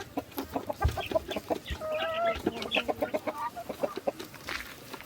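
A native country chicken clucks close by in a series of short, rhythmic clucks rising into a brief drawn-out call, with other fowl faintly in the background and no talking.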